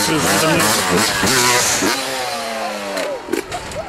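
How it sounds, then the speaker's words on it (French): A Mosquito motorcycle engine revs and rises in pitch on a ride in the Camargue, the whine climbing in repeated sweeps, with voices talking over it part of the time. "T'entends le bruit de la moto? Le moteur il est survitaminé, le moteur."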